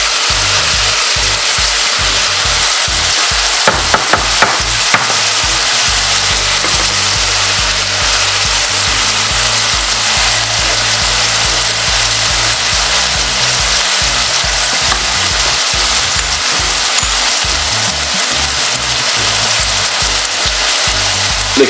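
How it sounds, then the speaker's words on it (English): Callaloo fries in a pot with paprika while being stirred, giving a steady, close, continuous sizzle with a few quick scraping clicks early on and no talking. "Give it a stir."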